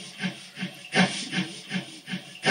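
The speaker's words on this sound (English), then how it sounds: "The goal is you want to sound like 4 chuffs per revolution of the wheel" Steam locomotive chuffing from a BlueRail model train sound system, calibrated to four chuffs per wheel revolution: a steady, evenly spaced series of soft hissing puffs, about three per second, with no voices.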